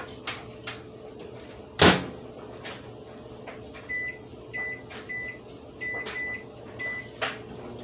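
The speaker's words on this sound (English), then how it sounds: "Now it says to microwave it for 11 to 13 minutes, so I put it on for 12." A kitchen microwave oven hums steadily through the whole stretch, with a loud door clunk near the start, a few soft knocks, and a series of short electronic beeps toward the end.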